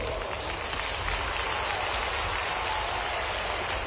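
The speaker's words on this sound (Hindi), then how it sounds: "इस पे जोर से ताली बजाओ बहनों।" Steady, dense applause from a large crowd at a Madhya Pradesh road show rally in Khategaon, a continuous wash of clapping held at even loudness throughout with no clear voices above it.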